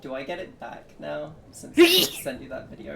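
A sharp, loud sneeze bursts out in the middle of casual conversation, with people talking before and after it.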